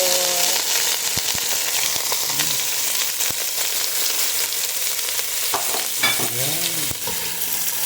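Ginger sizzles steadily in hot olive oil (three spoonfuls) in a pan while cooking chicken tinola, a continuous close frying hiss with occasional stirring scrapes and a brief spoken word near the end.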